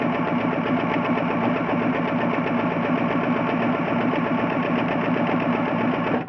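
Sewing machine stitching quarter-inch seams along quilt squares, a continuous fast mechanical whirring buzz running steadily, close and fairly loud, until it stops abruptly at the end.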